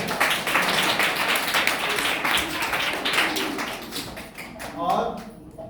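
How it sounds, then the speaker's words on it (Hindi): An audience at a children's yoga event at an international yoga ashram in Varanasi breaks into loud applause, a dense, sustained clatter of many hands clapping that fades slightly toward the end. "तो इन सभी लोगों के लिए जोरदार तालियां आप भी।"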